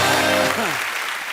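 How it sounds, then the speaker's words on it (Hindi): Loud studio audience applause on a Hindi comedy talk show, a dense wash of clapping filling the whole short burst, with a brief tonal swoop midway. "जोरदार तालियां हो जाएगा।"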